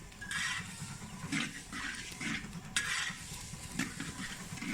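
A spoon scrapes and stirs Northern Thai Lampang larb chili paste over heat, about five rhythmic strokes with a soft sizzle, close and without talk.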